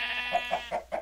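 A sheep bleats in a modded survival video game, four short wavering bleats in quick succession, close and clear with no talk over them.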